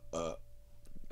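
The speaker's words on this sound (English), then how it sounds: "Sorry, spaghetti burps." A single short, throaty burp after a meal of spaghetti, close to the microphone and followed by faint mouth noises and quiet sounds.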